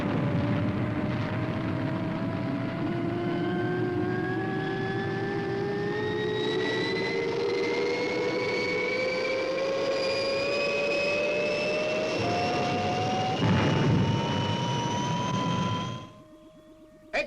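The Fireball XL5 spaceship lifts off with a loud, sustained jet-like roar whose pitch climbs steadily for about sixteen seconds before cutting out sharply.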